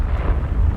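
A Confringo fire blast spell in Hogwarts Legacy goes off as a brief, heavy rumbling burst, loud and low, rolling like a short eruption without fading much before it ends.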